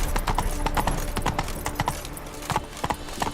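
Roach the horse's hooves clop rhythmically on the ground in The Witcher 3 video game, a close, loud series of sharp hoof strikes at a trotting pace.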